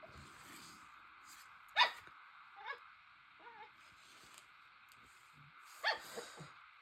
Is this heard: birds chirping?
no